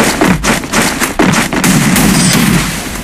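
Video game shotgun fire booms out in loud, repeated blasts at an uneven pace, each with a sharp crack and a short rumbling tail, with no talk over it.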